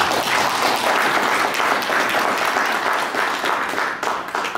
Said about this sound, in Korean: 이럴 때 박수 한번 주시죠.